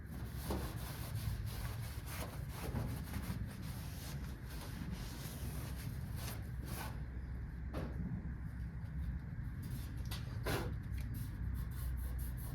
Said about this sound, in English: Wipe it with my tack rag here.